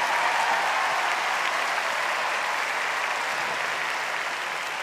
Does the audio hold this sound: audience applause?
yes